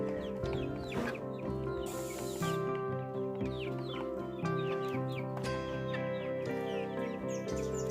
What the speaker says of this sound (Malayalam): അപ്പോൾ ഇതിൻ്റെ ഉള്ളിൽ താറാവും കുട്ടികളും ഉണ്ട്. അപ്പോൾ അവരെ വിട്ടു കൊടുക്കട്ടെ.